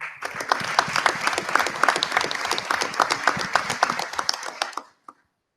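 Sustained crowd applause at a school board meeting for retiring CSEA staff like head mechanics and bus drivers, a thick wash of clapping hands lasting about five seconds, ending with a few stray claps.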